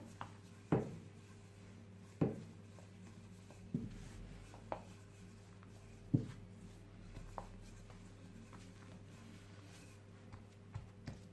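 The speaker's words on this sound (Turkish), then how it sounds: "merdane ile çok yavaş çok fazla bastırmadan böyle bu şekilde hepsini aynı şekilde böyle açalım" A rolling pin rolls out bazlama dough on a board in soft, faint rubbing strokes, each ending in a light knock roughly every second and a half.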